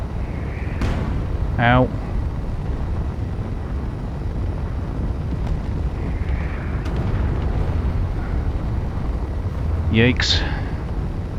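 Enemy rockets strike in the Space Engineers video game, two short bursts of impact noise several seconds apart over a constant rumbling background, with a voice reacting between them.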